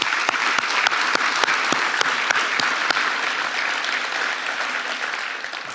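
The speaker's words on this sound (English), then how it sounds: "A round of applause again, please." Sustained applause from a conference audience at a European Investment Bank event fills the room, dense and steady with a few sharper claps standing out early, fading slightly toward the end.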